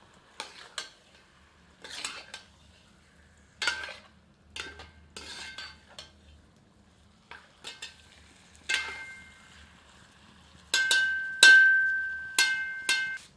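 Chicken curry with ground coriander and garam masala being stirred in a copper lagan: irregular metallic scrapes and clinks of a spoon against the pot, coming in short bursts with quiet gaps between.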